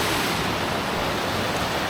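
Nant Melyn waterfall pouring down past moss-covered rocks, a steady broadband rush of falling water heard close and continuous throughout, with no voices.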